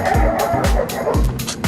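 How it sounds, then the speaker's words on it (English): Puppies at a Puppy Bowl event give a rapid series of high yips and short barks, close and loud, several in quick succession over a busy room background with faint voices. "That's barking."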